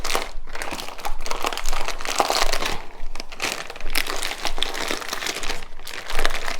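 Plastic bag crinkling and crunching continuously up close as hashbrown casserole ingredients are squeezed and mixed inside it, loud and rustling with brief pauses, no talk.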